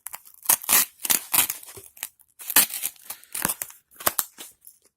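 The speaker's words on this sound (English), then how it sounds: "Let's cut some things with this. I've got some foam here. This is some insulator foam for copper plumbing lines in most houses." A Sanrenmu 4108 folding knife slices through foam pipe insulation for copper plumbing lines, producing close, scratchy squeaking and crunching strokes in irregular bursts separated by short silences.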